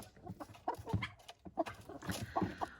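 Young Dominant-breed chickens cluck and chatter in short, irregular bursts close by in a cage, several birds calling over one another.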